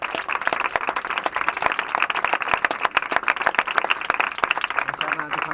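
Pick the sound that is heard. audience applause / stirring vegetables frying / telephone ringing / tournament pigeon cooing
audience applause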